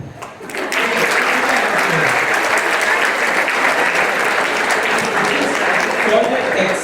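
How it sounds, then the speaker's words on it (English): Loud, sustained applause from a large school audience at a farewell assembly, starting after a brief quiet moment and holding steady for several seconds with no speech over it. "Can I have a huge round of applause for this fine specimen?"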